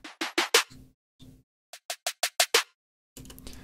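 A programmed trap snare pattern plays from a Cubase Sampler Track: crisp, evenly spaced hits that burst into fast rolls, with a few longer tonal hits in between. No one speaks.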